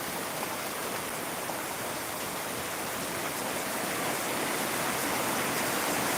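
Rain falling outdoors, a dense, even wash of rushing patter that holds steady and loud from start to finish with no voices over it.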